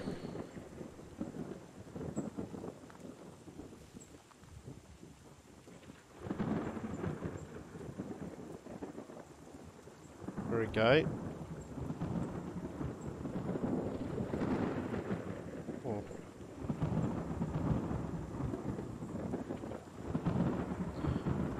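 Rain and thunder in the farming video game Journey of Life: steady hissing rainfall with deep rolling thunder rumbles that swell and fade, and one brief spoken word over the storm.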